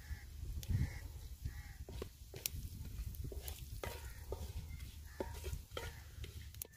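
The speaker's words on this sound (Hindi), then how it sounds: "अब इसमें तेज़पत्ता दालचीनी लौंग और स्टारफिश ये तमाम चीज़ें शामिल कर देंगे।" Whole spices such as bay leaf, cinnamon and cloves fry in hot oil in a pot for village-style egg dum biryani, a steady close sizzle broken by scattered clicks and scrapes from stirring.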